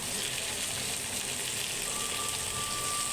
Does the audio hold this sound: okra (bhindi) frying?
yes